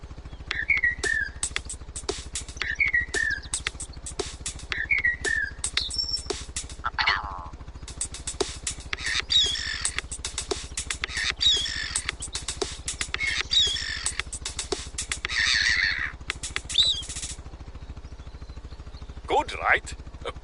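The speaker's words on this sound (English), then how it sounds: "We recorded the call of some birds and made this." Recorded bird calls from Hunter: Call of the Wild are edited into a short, rhythmic song: repeated chirps and whistles over a steady, ticking beat-like pattern, with squawky flourishes toward the end.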